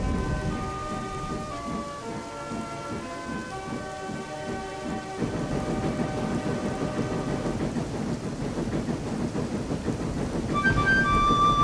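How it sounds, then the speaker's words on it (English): Heavy rain pours steadily with deep rumbling thunder, while tonal whistles and musical notes sound over the storm; the downpour grows louder toward the end. "the wind and the rain was becoming stronger"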